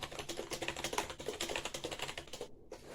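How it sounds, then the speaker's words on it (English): Rapid, steady keystrokes clatter on a compact 60% XINMENG RGB gaming keyboard, close up and alone, with a brief pause near the end. "I'm going to give you some typing."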